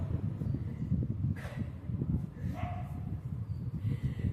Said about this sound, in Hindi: मेरे फ्रेंड को देखकर कुत्ता भौंक रहा है